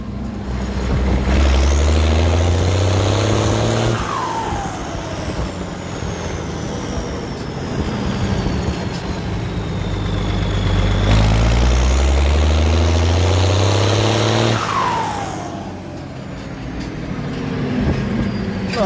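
A diesel tractor engine with a Motorpal 3120 injection pump runs close by with a heavy, steady rumble, its revs rising and falling in slow waves throughout.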